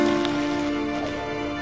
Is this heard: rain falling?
yes